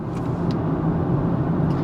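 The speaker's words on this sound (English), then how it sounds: "there's traffic going by, there's a truck in front of me, we got road noise" Steady road noise fills a car cabin while driving in traffic behind a truck, a loud, continuous low rumble and hum with faint whooshes from passing vehicles.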